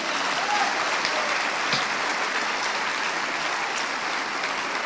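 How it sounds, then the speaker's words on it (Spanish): A church congregation applauds in praise during a sermon, a steady, dense clapping that holds evenly for the whole stretch without any voices. "Un aplauso a Cristo."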